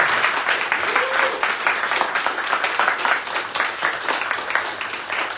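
A crowd at a founders' meetup in Vilnius claps for drinks sponsors, a sustained, even roar of hands at moderate loudness, with a voice briefly audible beneath it.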